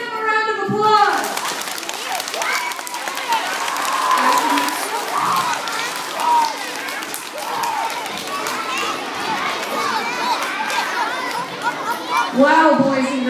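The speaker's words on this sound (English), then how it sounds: "Give them a round of applause." Schoolchildren in a classroom applauding after a paper friction demonstration, a steady chattering wash of clapping and voices under a teacher talking.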